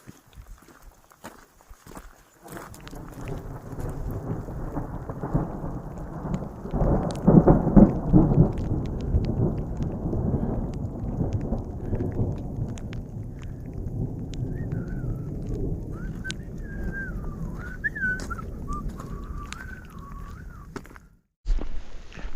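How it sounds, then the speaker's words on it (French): Steady rain shower with rumbling thunder in the mountains, a broad continuous wash building to a loud roll midway and holding, with a brief cutoff near the end; no talking. "il pleut bien"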